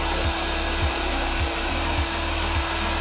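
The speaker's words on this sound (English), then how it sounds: "so we'll just apply a bit of heat using the heat gun" A heat gun blows steadily onto an MGB seat cover to smooth out creases, a continuous airy hiss with a low hum, broken by soft periodic thumps roughly every half second.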